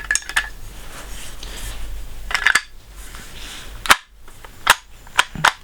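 A Cyma CM.123 electric airsoft Colt 1911 pistol is handled, its slide racked with sharp plastic-metal clicks and snaps spread over the clip, close and fairly loud.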